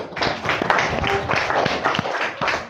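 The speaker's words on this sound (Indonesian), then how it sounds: "tepuk tangan untuk diri sendiri" Classroom of students clapping for themselves, a burst of scattered hand claps with uneven rhythm, fairly close and moderately loud, with a few voices mixed in.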